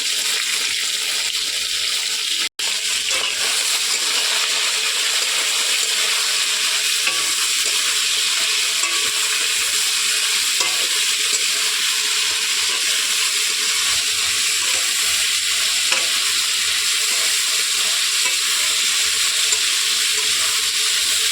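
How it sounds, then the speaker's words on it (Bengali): Pointed gourd fries in hot oil in a kadai with salt and turmeric, stirred now and then, for a rohu fish curry with potato. A steady close sizzle runs throughout, with soft scraping of stirring and no talking. "ভালোভাবে নেড়ে চেড়ে ভেজে নেব পটলটাকে"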